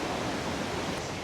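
Forest stream water flows in a steady, broad rushing wash, close and continuous with no voices over it.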